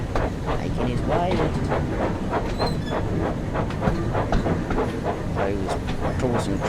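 Thomas the Tank Engine steam locomotive running in Train Sim World 5, a steady rolling chuff and rail rumble with hiss and rhythmic clicks throughout, close and loud, with a voice talking over it.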